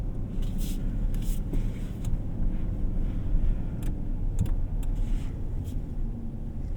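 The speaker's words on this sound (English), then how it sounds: "2026. Ram 1500. Bighorn with the V8 engine." A 2026 Ram 1500 Bighorn with a V8 engine drives along with a steady, deep engine rumble and road noise heard from inside the cab. The sound is continuous and fairly loud, with a few light clicks.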